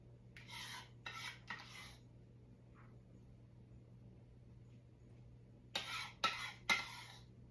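Spoon or spatula scraping food out of a dish while assembling a chicken divan casserole: a group of three quick rasping strokes, a pause, then three more, faint and close in a quiet room.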